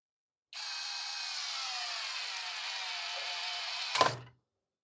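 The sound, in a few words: Tecepo 21V cordless drill driving screw into wooden rafter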